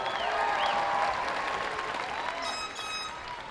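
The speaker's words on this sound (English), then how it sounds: "give yourselves a round of applause" Large crowd at a university commencement ceremony applauding, a broad wash of clapping with faint cheers and whistles in a big venue.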